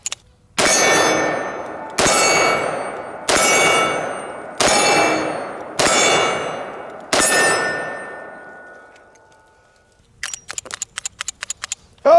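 Six loud, evenly spaced clangs with long ringing decay as .44 snub-nose revolver rounds strike steel targets at an outdoor range, followed by a rapid clatter of lighter metallic clinks.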